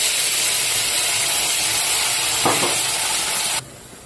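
Ground spice paste poured into hot oil, producing a loud, continuous hissing sizzle with a brief stirring knock partway through before the sound cuts down sharply near the end.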